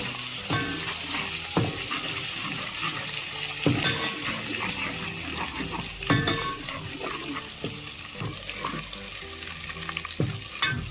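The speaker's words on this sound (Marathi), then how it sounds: "अद्रक लसूण पेस्टला गोल्डन कलर येईपर्यंत भाजायचा आहे" Ginger garlic paste fries in hot cooking oil with a steady sizzle, while a utensil stirs and scrapes the pan in repeated clinks throughout.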